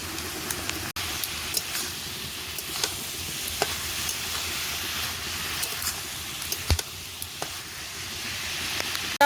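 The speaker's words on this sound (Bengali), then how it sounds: "এবার মোচার মধ্যে ভেজে রাখা আলুর টুকরো দিয়ে দেবো।" Fried potato pieces stirred into a sizzling banana flower curry cooked with fried fish pieces and mustard, with a steady frying hiss and occasional sharp utensil scrapes and taps throughout, no talking.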